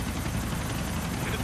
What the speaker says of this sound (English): Really? It's a helicopter crash.